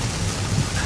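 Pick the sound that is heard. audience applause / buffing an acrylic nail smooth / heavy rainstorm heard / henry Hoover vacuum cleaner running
heavy rainstorm heard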